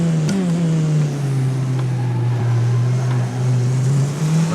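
A Tatuus FT-60 single-seater race car accelerating at Pukekohe Park in the racing game rFactor 2: a loud, continuous engine drone that climbs in pitch, with a brief gearshift dip near the start.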